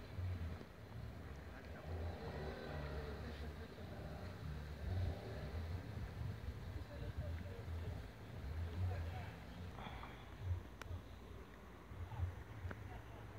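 A motor on a floating houseboat going down a river gives a faint, steady low rumble that continues throughout, mixed with wind-like outdoor noise.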